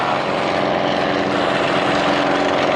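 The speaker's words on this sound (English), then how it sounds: "that amazing roaring noise. And there's two triplanes in front of us now." Two triplanes roaring past the crowd at the Bournemouth Air Festival, a loud, sustained propeller-engine drone that stays steady and close throughout.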